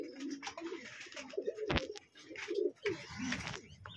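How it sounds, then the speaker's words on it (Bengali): Andalusian colour racer pigeon in a loft, cooing in several low rolling phrases close by, with a short sharp clatter midway and no voices. "এই যে অ্যান্ডোলজিয়ান যে কালার রেসার কবুতরটা"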